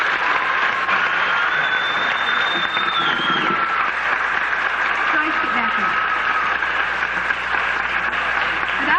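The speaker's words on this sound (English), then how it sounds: "give a round of applause to this very special lady" Steady applause from a musical audience fills the whole stretch, a dense continuous clapping from a crowd with faint voices and whistles mixed in.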